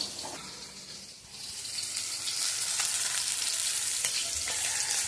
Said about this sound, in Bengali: মাছগুলো ভাজা হয়ে গেছে, তুলে নেবো, নিয়ে বাকি মাছগুলো এরকম করে ভেজে নেবো কড়া করে